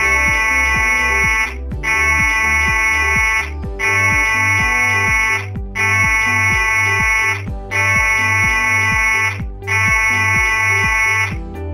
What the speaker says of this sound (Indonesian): Bila Anda mendengar bunyi alarm panjang 6 kali